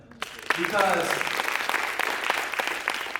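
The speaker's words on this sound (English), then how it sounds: "You can clap it up for him" A crowd claps and cheers at a Students Demand Action rally, the applause rising abruptly and holding steady, with a voice calling out briefly near the start.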